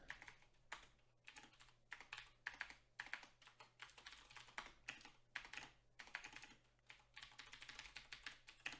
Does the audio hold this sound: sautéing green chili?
no